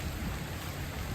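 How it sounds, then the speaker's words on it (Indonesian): Heavy rain pours down steadily outdoors at night, a dense, even wash of noise filling the whole moment without pause, close and loud with no voices over it. "Woi makin deras hujan bang."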